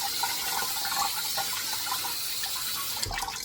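Cold tap water runs steadily over freshly boiled potatoes draining in a kitchen sink, a continuous hissing gush that stays even and moderately quiet, with a brief splash near the end.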